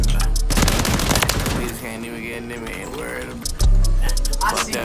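Rapid gunfire crackles in the Call of Duty Modern Warfare 3 video game, with dense bursts of shots at the start and again near the end and excited voices talking throughout.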